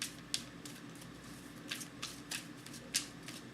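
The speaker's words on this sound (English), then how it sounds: "so we're good here, shuffling" Tarot cards are shuffled by hand in quick, crisp riffles, a series of short papery bursts heard close and fairly quiet, with no talking.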